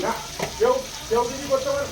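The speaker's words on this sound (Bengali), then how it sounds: "এই যে আলুটা ভাজা হচ্ছে" Potatoes fry in a pan for a Bengali vegetarian dish with grated ginger, tomato and chili powder, giving a steady close sizzle with brief stirring sounds and faint tonal, voice-like traces.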